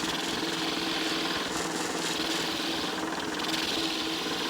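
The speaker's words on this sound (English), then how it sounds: "Again, using my detail gouge" Wood turning on a lathe with a detail gouge while shaping a bead on a goblet, a steady close scraping hiss over the constant hum of the lathe with no talk.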